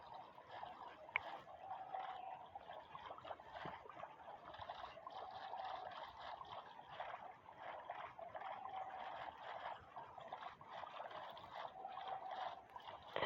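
A boat glides over water in a Minecraft-like video game, giving a faint, continuous watery wash that trickles without a break for the whole stretch.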